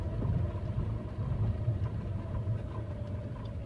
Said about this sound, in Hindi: अभी मैं एक एक नंबर के थोड़ा सा रेस कर रही हूँ